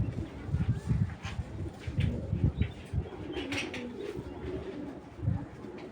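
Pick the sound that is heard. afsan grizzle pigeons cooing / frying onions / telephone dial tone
afsan grizzle pigeons cooing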